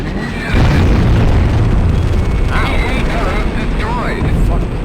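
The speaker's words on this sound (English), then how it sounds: "Vehicles were caught in the explosion." A loud, sustained explosion boom fills a combat scene in the flight game Ace Combat X, with rumbling blasts and sweeping whooshes layered beneath radio chatter.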